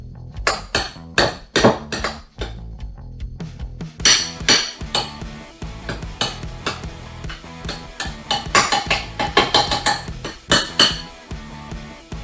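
Ingredients for a Parmesan crust for salmon are stirred in a dish, with a utensil clinking sharply and repeatedly against it in irregular bursts and brief pauses, close and clear.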